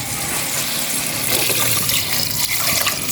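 Water runs steadily into a cooking pot already holding salt and other ingredients for a home-cooked dish, a continuous close splashing gush that fills the whole moment with no talk over it.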